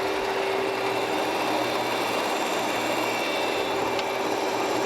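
A Landis surface grinder runs at its slowest feed rate of half an inch per minute, giving a constant, dense machine drone with a steady whine and a small click near the end.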